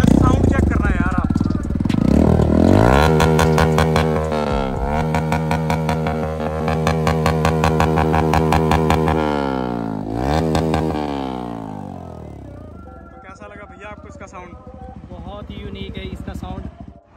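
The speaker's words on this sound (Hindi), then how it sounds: "ये मेरे ख्याल से ड्यूल बैरल एग्जॉस्ट है, और ये इन्होंने सीधा बेंड पाइप के साथ लगा रखा है।" A Bajaj Pulsar 160N motorcycle with a modified dual-barrel full-system exhaust on a straight bend pipe revs loudly up close, its engine note rising and falling through several throttle blips before settling toward idle, while people talk over it.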